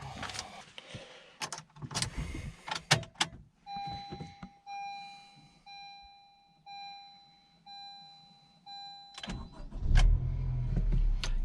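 A 10th-generation Honda Civic starting up, with a few close thumps and clicks, then a long steady electronic chime over a quiet idle before louder engine and road noise as it pulls away.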